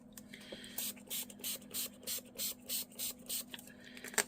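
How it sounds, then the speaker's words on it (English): Water sprayed from a pump spray bottle onto a watercolour paint palette: about nine short, quiet hissing puffs in an even rhythm, close by, with a faint steady hum beneath. "Let's give them a bit of a spray."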